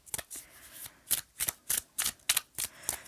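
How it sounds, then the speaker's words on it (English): A deck of tarot cards is shuffled by hand in quick, dry riffling bursts, about a dozen crisp flicks in an irregular rhythm, close and moderately quiet with no talk. "So I just shuffle."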